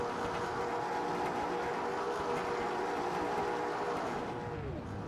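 A field of race cars at Daytona International Speedway in a racing video game builds revs at the start, a dense, steady engine drone whose pitch sweeps down near the end.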